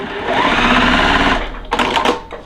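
A sewing machine stitches quilt pieces in a steady, close, continuous whir that runs for a couple of seconds, then slows and ends in a brief burst of mechanical clatter.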